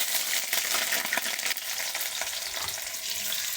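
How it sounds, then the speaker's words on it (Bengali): Nigella seeds hitting hot oil for a tempering, a bright crackling sizzle that is loud at first and settles into a steady fry, close up with a few faint stirring scrapes. "তেলটা গরম হয়ে গেছে, ওর মধ্যে একটু কালো জিরে ফোড়ন দেবো।"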